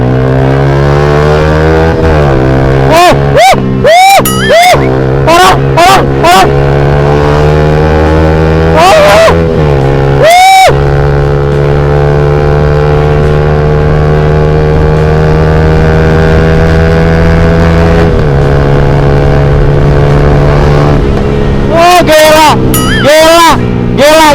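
A motorcycle fitted with a three-tone Tridente F19 racing exhaust idles loudly with a rough, buzzing note, then revs sharply several times in bursts, the engine pitch leaping and falling back, close by.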